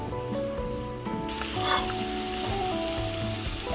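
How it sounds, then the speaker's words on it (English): Onions sautéing in oil in a pot over medium heat as a base for cilantro lime rice: a steady, moderate sizzle running throughout beneath soft background music with sustained tones. "We are going to saute these until they become softened and fragrant."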